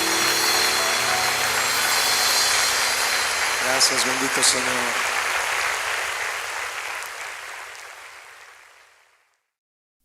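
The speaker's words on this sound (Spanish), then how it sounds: "Dale otro aplauso fuerte a Él de agradecimiento." A church congregation bursts into loud, sustained applause during a Spanish-language service, the clapping steady, then fading away to silence near the end, with a voice speaking over it.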